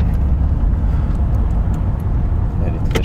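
Mercedes 500SL bought at a Japanese auction, driving on the road, with steady engine and road rumble heard from inside the cabin while people talk.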